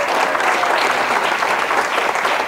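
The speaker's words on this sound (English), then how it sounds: "Just a round of applause for Laura." Guests at a wedding reception clap for a speech, a dense, even wash of applause that stays loud throughout.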